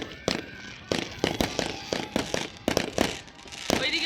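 New Year fireworks and firecrackers burst all around in a rapid, irregular series of sharp cracks and bangs, some close and loud, others more distant, with crackling between them.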